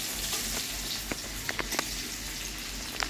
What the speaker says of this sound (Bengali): সেই পেঁয়াজটা দিয়ে দেবো। দিয়ে ভালো করে নেড়ে নেড়ে হাতে সরা রাখবো